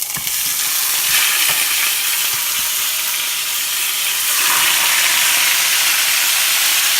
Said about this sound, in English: And then we drop those bad boys in there.